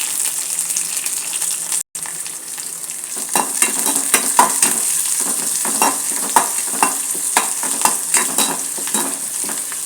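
Onions, green chillies and curry leaves with cumin frying in a pan for carrot rava upma, a steady bright sizzle broken by repeated scraping stirs of a spoon, close up and without talking.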